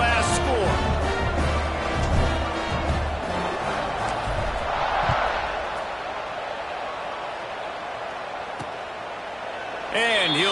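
Stadium crowd roaring and buzzing after a score late in the fourth quarter of an Ohio State football game, a loud sustained wash of many voices with a swell near the middle and a fresh surge at the end.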